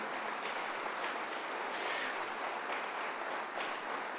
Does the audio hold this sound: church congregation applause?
yes